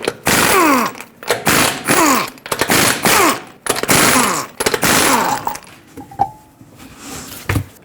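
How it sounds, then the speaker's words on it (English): An impact wrench with a 21mm socket removes five lug nuts from a 2013–2020 Nissan Pathfinder wheel in a series of loud, rattling bursts, each winding up and cutting off, close by. "Use a 21mm socket and remove all 5 of your lug nuts so we can remove the wheel."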